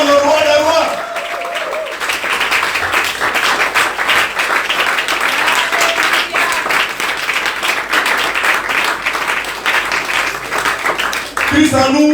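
A church congregation applauding and cheering in praise of God, sustained loud clapping mixed with voices for several seconds, framed by speech at the start and end.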